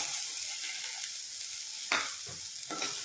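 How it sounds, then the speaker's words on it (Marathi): Sweet corn chaat with red chutney and a squeeze of lemon is mixed in a bowl. Close, soft scraping and stirring sounds run throughout, with a few louder mixing strokes near the end and no talking. "छान आता हे मिक्स करायचं आपल्याला"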